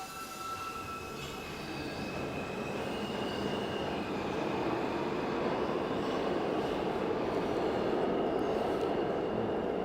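A New York City subway train rumbles steadily, with wheel squeal and a rising roar as it builds in volume over about ten seconds, heard alone without talking.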